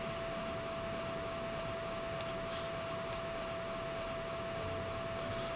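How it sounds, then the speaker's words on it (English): Vacuum cleaner in the video game My Time at Sandrock, a steady droning whoosh with a constant whine that runs unchanged throughout, with no talking. "just what I love listening to, the sound of a vacuum cleaner."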